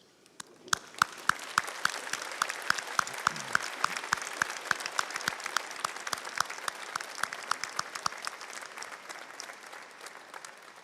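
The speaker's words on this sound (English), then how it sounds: "show your appreciation with a round of applause." Graduands at a University of Lincoln graduation ceremony applaud together, a few sharp individual claps at the start swelling into sustained crowd clapping that gradually thins toward the end.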